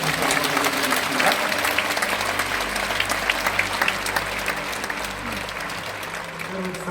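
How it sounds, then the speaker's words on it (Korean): A church congregation claps loudly at the close of a worship service, steady massed applause with a low musical hum underneath, gradually easing toward the end. "우리 마지막으로 큰 박수로 인사드리겠습니다."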